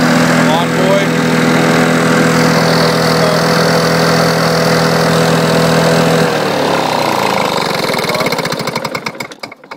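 A 1976 Lawn Boy 8234 two-stroke, 21-inch-cut lawn mower engine runs close and loud with a steady buzzing drone, then sputters and winds down to a stop near the end.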